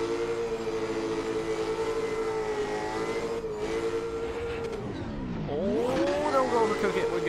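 A Ford Mustang engine in a racing video game holds a steady, sustained drone, then dips and swoops as the car slides through a corner with rising revs and tire squeal near the end.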